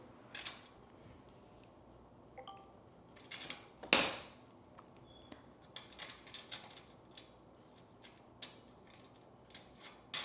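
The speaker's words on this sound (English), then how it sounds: "We're gonna cut this open" Scissors cutting open the packaging of an Amazon nightstand with a built-in multiplug, quiet crisp snips and crinkles coming in scattered bursts, with one sharper rip partway through, close and without talk.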